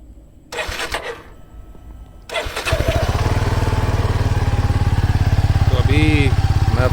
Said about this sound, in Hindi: अब इसका एग्जॉस्ट नोट सुन लेते हैं, एक सेकेंड।